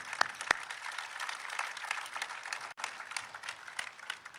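An audience at a presidential event on bridge improvements in Covington, Kentucky claps in a steady, moderate round of applause heard from a distance, with a couple of sharper single claps near the start.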